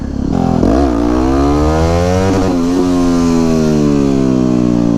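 A supermoto motorcycle engine revs hard and loud up close in first gear, its pitch climbing and dipping repeatedly as it holds near the rev limiter through wheelies.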